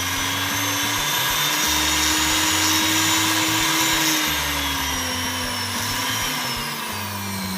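An abrasive tool grinds steadily against plated metal hardware, wearing away the finish in a loud, continuous whirring drone that holds nearly level throughout with a slight pitch drift.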